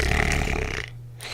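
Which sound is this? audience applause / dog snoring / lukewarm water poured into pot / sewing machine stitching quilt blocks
dog snoring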